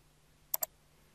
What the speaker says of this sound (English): Click on finish.